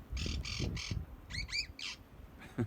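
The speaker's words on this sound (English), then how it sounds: "My bird's going crazy." A pet bird squawks indoors in a series of harsh, raspy calls, several in quick bursts with short gaps. The calls are fairly close but moderate in level, over a low rumbling background during a New York City blizzard.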